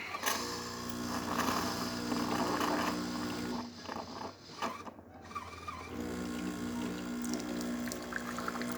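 A Jura Ena 8 coffee machine dispenses hot water in a steady, soft pouring stream with a faint pump hum, interrupted by a brief mechanical clatter midway before the flow resumes.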